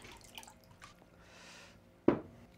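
A beer bottle lowered into water, giving a sudden close splash and gurgle near the end after a few faint drips and quiet handling sounds.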